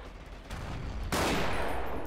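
A Bren light machine gun opens up in Forgotten Hope 2. Distant battle rumble gives way to a sudden, sustained burst of close automatic fire that roars on loudly to the end.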